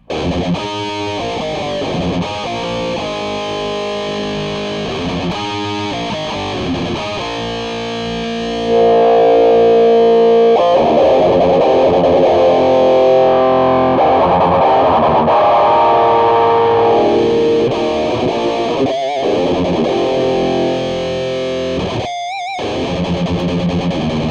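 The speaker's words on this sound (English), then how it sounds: "you can blend between 4 different types of distortion sounds" Heavily distorted electric guitar through a DigiTech Metal Master distortion pedal plays chugging riffs and sustained chords, loud and saturated, with a brief pause near the end.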